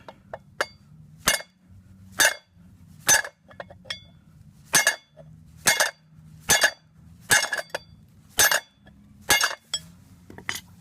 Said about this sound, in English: Using a brass punch and a brass hammer, just so we don't damage anything if we slip.